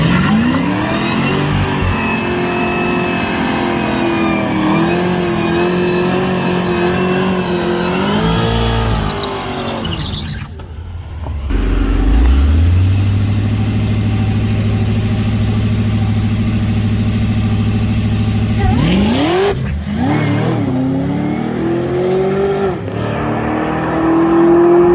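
A stock-engine Cadillac CTS-V with a new cage makes a drag strip run, its engine loud and near, revving hard through rising gear pulls, with a brief lift and shift before accelerating again.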